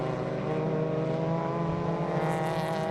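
VW Challenge race cars cross the line to start the final lap with a steady, loud, overlapping engine drone that holds at one level throughout, with no talk.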